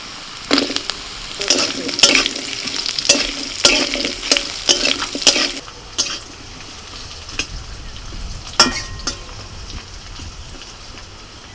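Potatoes fry in a pan with a tempering of dried red chilli, bay leaf and five-spice, giving a loud crackling sizzle with repeated sharp spatula clatters that thin out to a gentler hiss.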